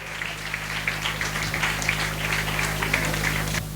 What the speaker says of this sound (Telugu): గట్టిగా చప్పట్లు కొట్టి అభినందనలు తెలియచేద్దాం.